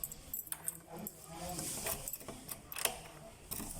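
Keys jangle and clink while a key is worked out of a cabinet lock, giving faint, close, irregular metallic rattles with small mechanical clicks.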